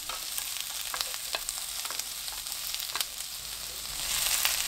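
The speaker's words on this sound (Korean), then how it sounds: "구운 소금 한 꼬집 넣고 20초 볶습니다" Zucchini and onion stir-fry in a pan after a pinch of roasted salt is added, giving a steady close crackling sizzle with scattered sharper pops and scraping stirs, swelling slightly louder at the end.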